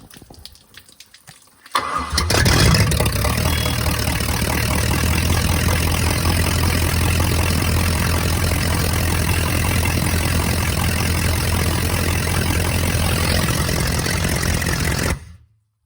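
A big Volvo Penta 5.7 marine V8 engine cranks and catches on its first start-up, then settles into a loud, steady rumbling idle that runs until it cuts off abruptly at the end.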